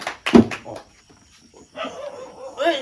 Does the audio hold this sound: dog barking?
yes